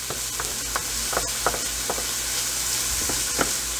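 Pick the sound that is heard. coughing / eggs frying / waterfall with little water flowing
eggs frying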